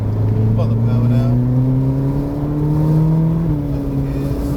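A Ferrari California accelerating hard on the Castle Combe race circuit, its engine note rising steadily in pitch, loud and close from inside the cabin, with an instructor talking over it.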